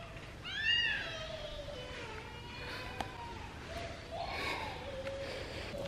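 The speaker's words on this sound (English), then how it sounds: "Snickers, where are you going, little kitty?" A cat gives one soft meow near the start, followed by quiet background noise.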